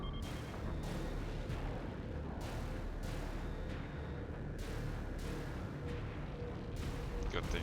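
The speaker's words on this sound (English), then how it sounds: "Missiles incoming!" Incoming missiles explode in the Battlestar Galactica Deadlock video game, a series of booming blasts roughly every second over a dense, constant rumble of battle noise.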